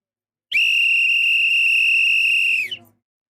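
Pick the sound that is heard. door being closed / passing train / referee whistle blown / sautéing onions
referee whistle blown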